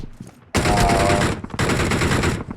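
Dense automatic gunfire in a video game rattles out in two long, loud bursts separated by a brief pause, each a rapid stream of shots.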